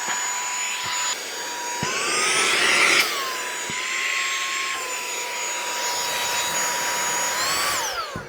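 A Minthouz cordless car vacuum cleaner runs close up with a steady high motor whine, its pitch shifting briefly as it is handled, then winding down at the end.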